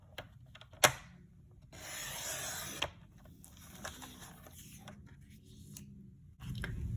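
Paper for a sliding lock gatefold card being cut on a paper trimmer, heard as a brief snap followed by a soft rasping slide of the blade, then light tapping and handling noises close by.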